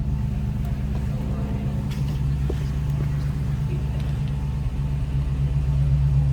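A 1971 Plymouth Barracuda with a 6.1 Hemi engine, stock cam and mild exhaust, idles with a deep, steady rumble close by, nearly constant throughout.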